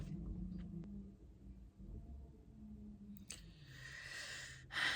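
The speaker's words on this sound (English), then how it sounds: "Now the garbage truck is here." A garbage truck outside gives a low engine rumble, then a hiss and clank of its machinery, heard faintly from indoors.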